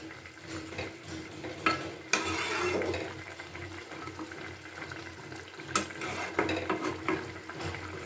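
Fried rohu fish pieces bubbling in a boiling gravy, a steady close simmer with wet bubbling and spoon stirring, plus a couple of sharper clinks against the pan, no voices.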